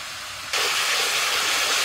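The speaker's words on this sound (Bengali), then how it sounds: "এবার দিয়ে দিচ্ছি আদা রসুন কাঁচা লঙ্কা বাটা।" Ginger, garlic and green chilli paste drops into hot oil, and a bright, sudden sizzle jumps up over the quieter frying and runs on as a loud, close hiss.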